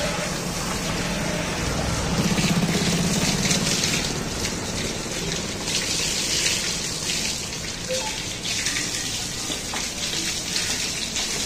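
Water gushes and splashes steadily while a car is being washed outdoors, a close broadband hiss with a louder surge early on.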